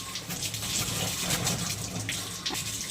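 Water gushes steadily from a kitchen tap as it fills, a continuous close hiss and splash with no talking, in a home kitchen where okra is being cooked.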